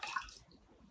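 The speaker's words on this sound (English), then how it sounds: "I'm going to pull it out, gently squeeze out all the water." Yarn soaked in weld dye solution being gently squeezed out by hand over a sink, giving a short burst of dripping and splashing water up close that fades into quiet.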